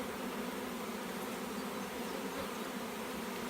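Honeybees swarm around an open hive, a dense, loud, steady buzzing that fills the space at close range with no voices.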